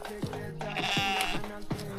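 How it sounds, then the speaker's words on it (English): Several sheep bleat in short wavering calls from a large flock outdoors on a walk in Maui, moderately close and overlapping, with faint background sound between calls. "And those are sheep. There's a lot of them."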